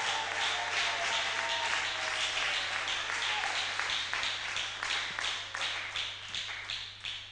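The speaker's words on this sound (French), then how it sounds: "on acclame très fort le Seigneur" A church congregation at a seminar claps and cheers in praise, a dense wash of applause with distinct rhythmic claps emerging toward the end, steady and fairly distant, holding for several seconds.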